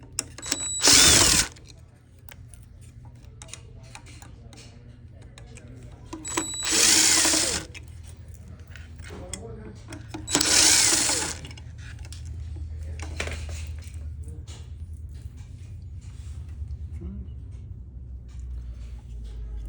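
A power screwdriver backs screws out of the shoulder arm of a garment steamer in three loud, separate whirring bursts of about a second each, with quiet handling between them and no talk.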